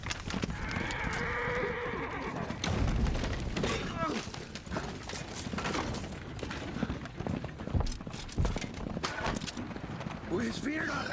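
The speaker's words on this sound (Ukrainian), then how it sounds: "Коні сполошились, ніби тікають від." Horses in The Witcher 4 Unreal Engine 5 tech demo whinny and clatter in a panic, hooves thudding amid dense game ambience, with voices talking over the commotion.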